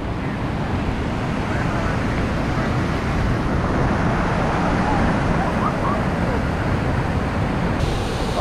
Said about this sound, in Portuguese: Olha só que cachoeira bonita.